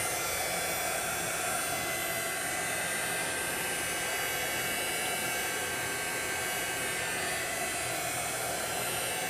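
A heat tool blows hot air to dry a junk journal page, a loud, steady, close whooshing hiss with a faint whine that runs unbroken for the whole stretch with no talking.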